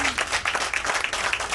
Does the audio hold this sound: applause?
yes